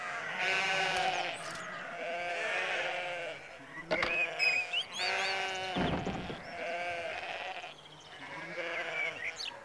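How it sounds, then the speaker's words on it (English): A flock of sheep bleats repeatedly, long wavering cries overlapping one after another, loud and close. "A field full of sheep."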